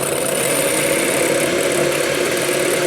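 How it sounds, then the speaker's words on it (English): Aquafaba, the liquid from a can of chickpeas, is whisked with an electric mixer, producing a steady, loud motor whir that holds unbroken throughout. "Now whisk the liquid from the can of chickpeas."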